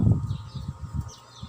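Faint, distant birdsong drifts through an outdoor nature setting, soft chirps scattered over a low background rumble.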